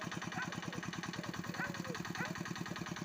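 A fisherman's vehicle engine runs steadily at a low rumble beside a village house with a young garden, its rapid pulsing continuous and fairly close, with some higher sounds over it.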